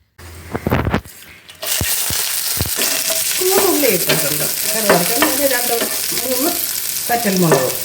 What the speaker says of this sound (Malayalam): ഒരു രണ്ട് സ്പൂൺ എണ്ണ ഒഴിച്ച് കടുകിട്ട് പൊട്ടിക്കുക